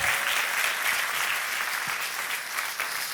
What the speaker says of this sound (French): Est-ce qu'on peut applaudir plus fort que ça?